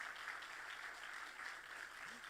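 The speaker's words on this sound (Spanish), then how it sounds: "Si le vas a dar ese aplauso al Señor," Faint, steady applause from a church congregation fills the space as a continuous wash of clapping at low level, with no voices standing out.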